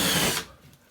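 Power drill boring through sheetrock to mount an Aiphone IXG flush mount kit, a loud close burst of whining, grinding noise that stops abruptly partway through, leaving quiet room tone.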